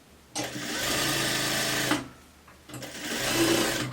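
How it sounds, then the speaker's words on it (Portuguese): An overlock machine runs a finishing seam on a sweatshirt-and-skirt set, giving two steady close whirring bursts of rapid stitching with a short pause between them. "Posso ir lá na overlock já fazer o acabamento."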